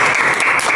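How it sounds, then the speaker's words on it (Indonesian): A classroom of students claps together in a short, dense burst of applause, loud and close, with no voices over it. "beri tepuk tangan untuk kelompok 3"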